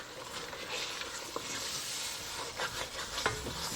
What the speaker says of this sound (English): I'm going to try to scrape up that fond on the bottom of the pot using the coconut milk.